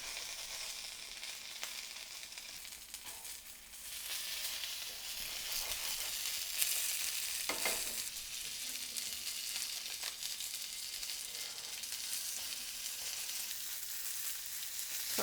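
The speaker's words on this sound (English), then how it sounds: "Frying dumplings." Chinese dumplings fry in a pan with a steady, close sizzle that holds throughout, rising slightly in intensity partway through, with no voices over it.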